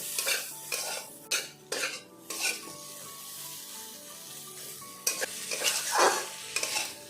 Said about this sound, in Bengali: ঝিঙে ডাটা ভালো করে কষানো হয়ে গেছে